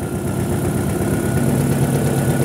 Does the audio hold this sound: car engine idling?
yes